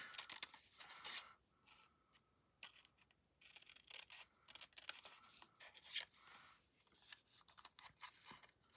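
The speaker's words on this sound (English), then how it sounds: "Quickly fussy cut presents out." Scissors fussy-cut Christmas paper presents, producing quiet, irregular snips and crisp paper rustles in close succession with short pauses, with no talking.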